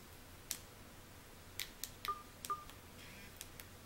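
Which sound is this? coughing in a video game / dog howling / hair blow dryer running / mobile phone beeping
mobile phone beeping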